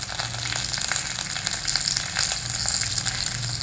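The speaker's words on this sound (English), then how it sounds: "Just take half a teaspoon of oil, add some mustard seeds, a little bit of hing, a few fresh curry leaves" Mustard seeds, hing and curry leaves sizzle and crackle in hot oil for a tadka, a steady close bright hiss with scattered pops and no voices.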